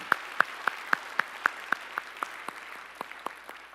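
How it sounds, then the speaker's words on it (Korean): A church congregation claps during a worship service in a steady, evenly spaced rhythm of sharp claps. The claps are loud and clear at first, then grow a little softer over a low hum of room noise, with no talking. "이 모든 영광을 우리 주님 앞에 박수로 올려드립니다."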